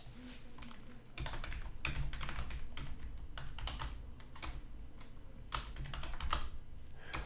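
Steady, close typing on a computer keyboard while code is entered, a fast irregular patter of key clicks over a constant low background rumble.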